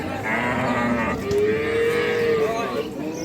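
A cow at the Ambari cattle market in Dinajpur, where dairy cows are sold with their calves, gives one long, low moo close by. Steady market chatter and crowd noise continue underneath.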